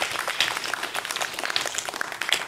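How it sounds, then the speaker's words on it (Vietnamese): Audience applause at a birthday celebration for a Buddhist monk, a steady spread of many hands clapping at moderate volume with no pauses, filling the whole moment. "Xin được cảm ơn tràng pháo tay rất ấm cúng và thân tình của tất cả quý vị."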